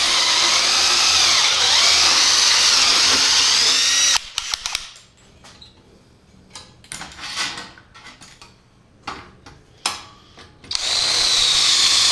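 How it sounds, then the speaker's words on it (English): A power tool cuts holes in a metal radiator diffuser panel for a tube chassis front end, with a steady loud whine at first, then a series of shorter bursts and pauses before the whine resumes. "we'll get all of these holes cut out and then go stamp them out in the dimple die"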